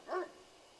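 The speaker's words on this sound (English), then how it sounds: "You hear a dog howl from nearby." A dog in the horror visual novel Death Mark lets out a brief, fairly quiet mournful cry close by in a forest setting, then a low murmur of background ambience follows.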